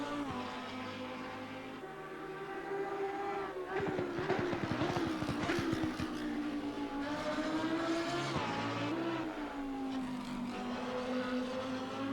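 Lamborghini Huracan EVO GT3 lapping Imola in the Assetto Corsa Competizione racing game, a sustained engine whine rising and falling through gear changes and corners, with brief tire scrubbing.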